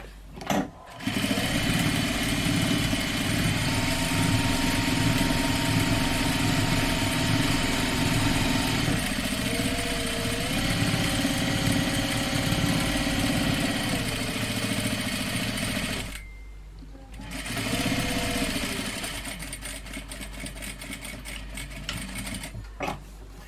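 A sewing machine runs steadily while top stitching suspenders, a close, continuous mechanical whir that pauses briefly, then starts again for shorter bursts, with no talking.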